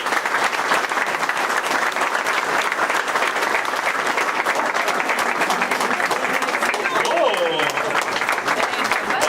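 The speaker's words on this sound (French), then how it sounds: "On peut l'applaudir très fortement parce qu'il est mérite." Audience applause at an exhibition event in Neuville-en-Ferrain, dense sustained clapping for several seconds, loud and continuous, with a voice briefly rising over it near the end.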